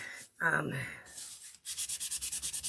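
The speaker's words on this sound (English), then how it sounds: "I just got like a 600 grit sandpaper in here, really fine" A wooden cable-knit Christmas ornament is rubbed with fine 600 grit sandpaper: a brief scrape, then a quick run of about a dozen soft, rhythmic back-and-forth sanding strokes, close and fairly quiet.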